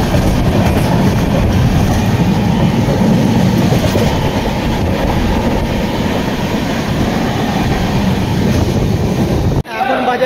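Mumbai–Howrah Mail (12809) heard from inside a carriage while running: a loud, steady rumble and rattle of wheels on rails continues throughout, then cuts off abruptly near the end.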